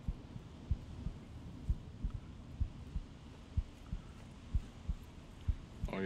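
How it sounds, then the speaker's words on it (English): A heartbeat thuds in Onward VR as a wounded soldier bleeds out, slow regular double beats pulsing low and steady over a faint background hum, with no speech. "I can hear my heartbeat."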